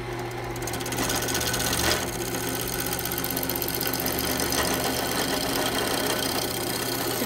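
A wood lathe spins steadily while turning a piece of wood, producing a constant loud mechanical hum with a fast rhythmic chatter layered on top and a brief scraping swell near the start.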